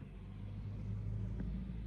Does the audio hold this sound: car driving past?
yes